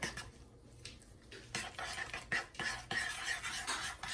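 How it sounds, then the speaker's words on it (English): A spoon stirs and clinks against a bowl as coleslaw dressing is mixed with sugar, giving a run of close, scraping clinks that grow busier and louder after a quieter opening, with no talking. "Now you can mix the mixture up."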